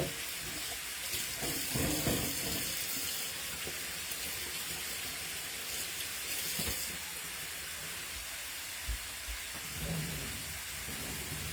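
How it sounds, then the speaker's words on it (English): Hands are washed under a running kitchen tap, a steady splashing hiss of water that stays even and close throughout, with small splashes and knocks. "I'm going to wash my hands"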